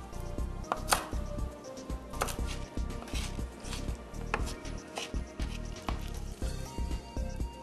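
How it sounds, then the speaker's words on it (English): A knife chopping fresh pico de gallo with lime squeezed on top, rapid close taps on a cutting board with a wet, squishy edge, steady and repeated throughout. "We're just going to chop it all up with our knife"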